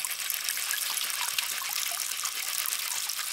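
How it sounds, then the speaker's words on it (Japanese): Something is slowly rinsed in running water, giving a steady close trickling and splashing wash with no pauses throughout. "ゆっくりすすいでいます。"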